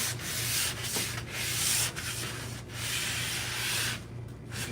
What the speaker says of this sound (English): if you sand it down and then spray it